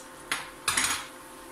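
An eggplant fritter is flipped in a frying pan with a spatula: two quick metallic scrapes and clinks, the second longer, heard close over a faint steady background, with no voices.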